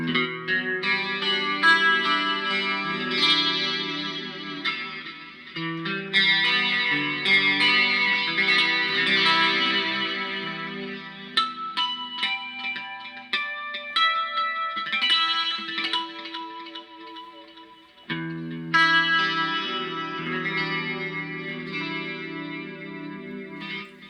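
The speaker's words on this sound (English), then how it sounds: "Add some chorus and some delay." Electric guitar played through chorus and delay effects, sustained chords and ringing notes with a shimmering, echoing wash, steady and loud throughout with brief pauses between phrases.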